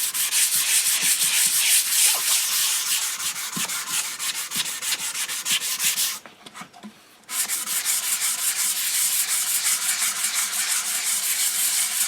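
Hand sanding of an HW30 air rifle stock with sandpaper: a loud, continuous rhythmic rasp of strokes that breaks off for about a second midway, then resumes steadily.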